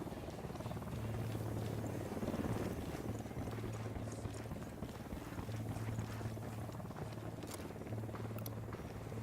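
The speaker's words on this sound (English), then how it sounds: "Chopper incoming." A helicopter in the tactical shooter Ghost Recon Wildlands thrums steadily with a low rotor beat over broad wind-like rushing noise, sustained and fairly even throughout.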